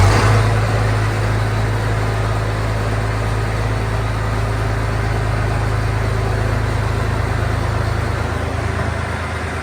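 A red 1206 tractor's engine warms up outdoors before a dyno test, holding a steady, close, low idle drone from start to end with a slight fade near the close.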